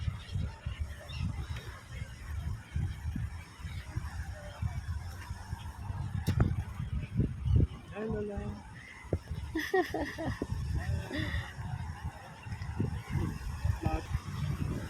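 Geese or ducks honk intermittently across a lakeside park where people feed the birds, the calls scattered and moderately near under continuous talking and general outdoor bustle.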